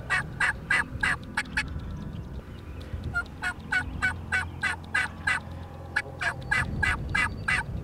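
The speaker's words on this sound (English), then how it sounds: "The turkeys are gobbling, coming in" Wild turkeys gobble repeatedly in the open during a spring hunt, rapid rattling bursts coming in quick runs with short pauses between, moderately close and clear over a faint outdoor background.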